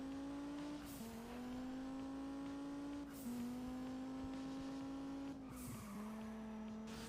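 Race car engines roar in the video game Juiced 2: Hot Import Nights as a Koenigsegg CCX runs against a Viper GTS, a sustained high engine drone climbing through gears with three clear shift drops and tire squeal, faint and without talk.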